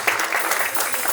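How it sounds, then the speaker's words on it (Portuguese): A church congregation claps during a celebration service, a brief burst of dense, fairly loud applause filling the room. "Aplauda Jesus pela vida do povo aí"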